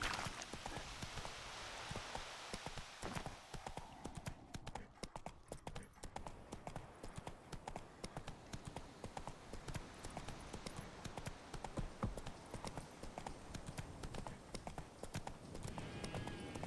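Roach the horse gallops in The Witcher 3, a steady rapid clip-clop of hooves close up over a soft, rain-like hiss that continues throughout.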